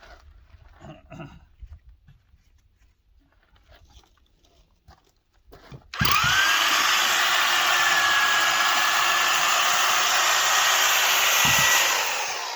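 A loud, steady power drill roars continuously, boring into decomposed granite rock with a long bit, starting abruptly after a few seconds of quiet with faint thuds, then easing off near the end.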